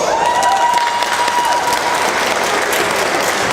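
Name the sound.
convention audience applause welcoming Tony Amendola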